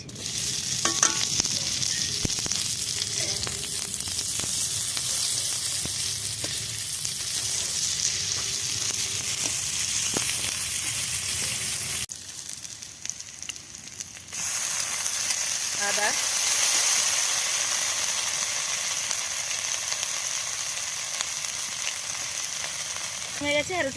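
Dried red chillies, bay leaf and onion sizzle loudly in hot oil, a dense continuous frying hiss with scraping stirs that briefly drops away before resuming strongly.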